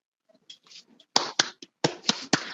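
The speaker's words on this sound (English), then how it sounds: "I'm clapping over here" Sharp, sparse hand claps, about six distinct strikes spaced irregularly, close and dry, following a few faint quieter taps, from one listener at an online presentation.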